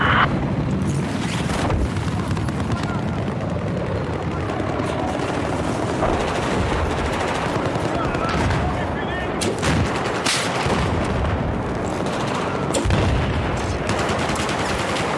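Dense gunfire in the video game Battlefield 4, rapid machine-gun bursts and heavier blasts layered almost continuously, loud and close, with a voice talking over the action.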